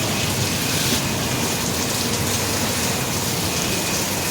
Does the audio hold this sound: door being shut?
no